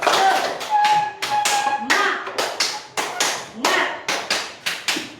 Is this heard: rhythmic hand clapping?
yes